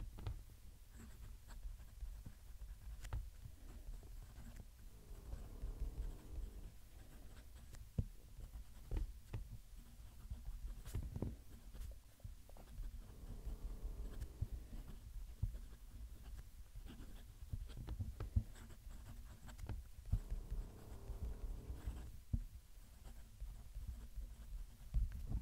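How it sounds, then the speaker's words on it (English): Visconti Van Gogh fountain pen nib writing on textured paper, heard close up as soft, scratchy strokes in irregular bursts with brief pauses between words, quiet and intimate. "Going to move the microphone down to the paper so you can hear the pen writing."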